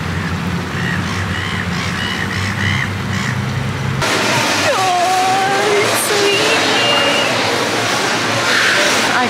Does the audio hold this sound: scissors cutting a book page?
no